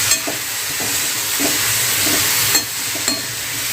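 Kantola (spiny gourd) vegetable frying in oil with masala, a loud continuous sizzle up close, with a few soft stirring knocks at intervals.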